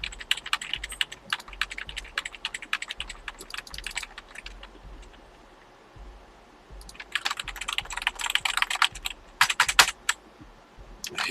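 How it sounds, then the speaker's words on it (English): Someone types on a computer keyboard in quick bursts of close clicking keystrokes, with a short pause midway before the rapid tapping resumes. "Come on, start typing."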